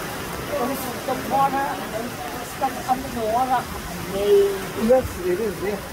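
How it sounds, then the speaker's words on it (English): Heavy rain hisses steadily in the background while people talk over it. "It's raining so much now."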